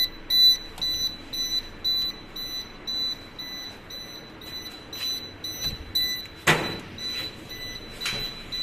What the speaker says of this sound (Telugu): ఇప్పుడు మన దగ్గర సైరన్ ఎందుకు డిస్టర్బెన్స్ ఉందని చెప్పేసి మనం చిన్న బజర్ అనేది పెట్టడం జరిగింది